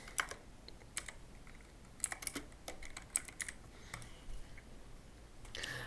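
Quick bursts of keys clatter on a computer keyboard, close and crisp, with short pauses between clusters of keystrokes in a quiet room.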